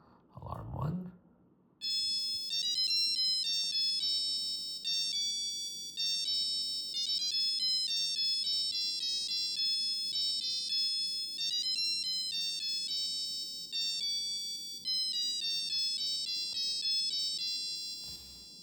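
Casio Melody 30 melody module 472 playing its first alarm tune, a bright electronic beeping melody of rapid high notes looping steadily for many seconds after a short low thump at the start.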